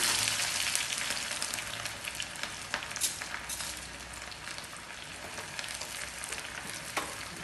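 Steady loud sizzling of mustard seeds and small onions frying in hot sesame oil for tempering, with occasional crackles and pops, continuous throughout with no talking.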